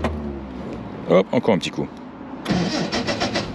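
A 1959 Triumph TR3A sports car engine cranks and catches, then settles into a rough, throbbing idle, with a voice speaking briefly just before it fires.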